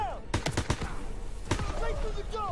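Sharp game gunshots from Call of Duty WWII crack in a quick cluster, then a single louder shot, with echoing tails and talk in the background.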